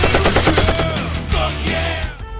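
A loud, close burst of rapid machine-gun fire as a sound effect, dense rattling shots repeating quickly for about two seconds before fading out.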